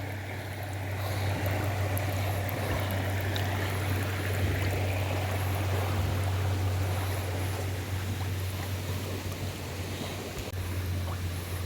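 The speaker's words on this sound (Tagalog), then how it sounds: "Kita niyo yung sound ng ano, ng falls." Hinolugan waterfall in Guinobatan, Albay pours in a steady, broadband rush of flowing water, constant and moderately loud with a low hum beneath, no voices present.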